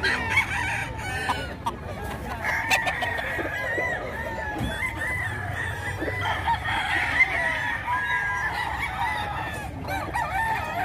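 A fighting rooster crows and clucks at a rooster market in Bocaue, Bulacan, with other fowl calling around it in a busy, continuous chorus, near and fairly loud.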